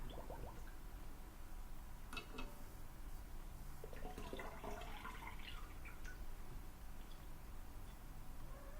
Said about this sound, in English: And then we're gonna rinse it.